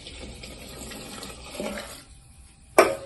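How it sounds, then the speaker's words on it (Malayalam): Water poured into a cooking pot of wild elephant-foot yam stem curry with chilli and rock salt, a steady splashing pour that thins out, followed by one sharp louder splash near the end. "ഞാൻ കുറച്ച് കൂടുതൽ വെള്ളം ഒഴിക്കുന്നുണ്ട്"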